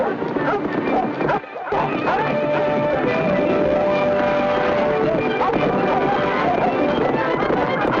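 Carriage horses' hooves clip-clopping steadily amid a busy, noisy scene, with voices and other sounds layered over the rhythmic clatter.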